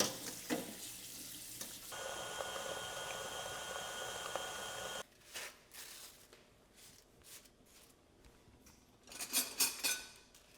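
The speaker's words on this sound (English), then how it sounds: "I'm gonna get our pasta out of our water because it's mostly cooked" Hot pasta water pours from a pot through a colander into a bowl in a home kitchen, a steady rushing splash for several seconds, then scattered clatters and clinks of utensils.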